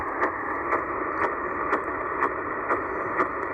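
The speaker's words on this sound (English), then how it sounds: "what you're hearing there is some CODAR signals coming in" Over a band of shortwave radio static between 13 and 14 MHz, a CODAR coastal radar signal repeats a sweeping chirp about twice a second, regular and mechanical, at moderate volume.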